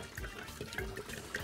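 Water runs steadily from a kitchen tap while pickled onions are being prepared, a soft continuous rushing stream at low level with no talking.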